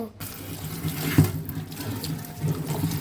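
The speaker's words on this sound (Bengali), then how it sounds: "এখন আলুগুলোকে ধুয়ে নিব" Cut potatoes being washed under a running kitchen tap, a close, continuous splash of water into the sink with a brief louder gush partway through, no talking.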